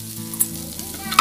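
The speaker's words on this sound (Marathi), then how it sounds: "अशा प्रकारे ढवळून घ्यायचं आहे" Spicy corn fry (maize kernels) being stirred in a pan, with scraping spoon strokes over a steady sizzle, close and fairly loud, with no talking.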